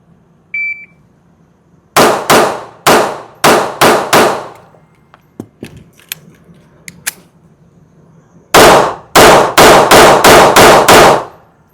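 Shots from a Smith & Wesson Bodyguard 2.0 .380 pistol follow a short electronic shot-timer beep, in two loud rapid strings of sharp reports, five then about seven, with small clicks between.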